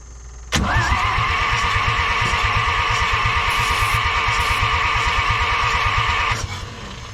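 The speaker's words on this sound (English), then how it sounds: "the starter's just messing up on the flywheel" A starter motor cranks an engine against its flywheel while chasing a no-spark fault on an old piece of junk equipment. It makes a loud, steady, rhythmic chugging that runs for about six seconds and then cuts off, with no talking.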